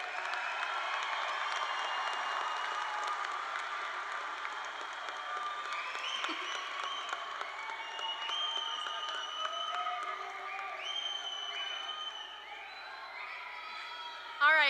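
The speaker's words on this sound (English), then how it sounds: "can we give them one final round of applause?" A large crowd at a high school graduation applauds and cheers, with whoops and shouts rising over steady clapping before it thins out near the end.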